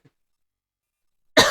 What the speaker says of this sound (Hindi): अभी मेरे को खांसी हो रही है